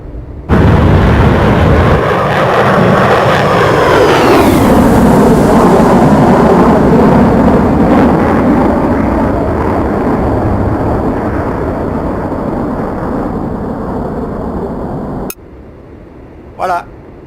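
A Mirage 2000C fighter jet takes off at night with a loud, roaring engine blast that sweeps and builds, then holds for many seconds before it cuts to a quiet cockpit hum. Radio chatter and voices can be heard in the background.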